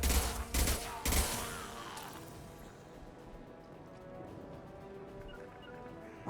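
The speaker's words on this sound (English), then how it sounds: "Taking heavy fire!" Heavy gunfire in the video game Mass Effect 2 opens with a few loud, dense bursts of shots, then fades within about two seconds into a low, rumbling battle ambience.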